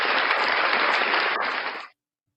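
A burst of audience applause at a live Saturday night show, dense and loud from the start, holding steady for nearly two seconds before cutting off abruptly.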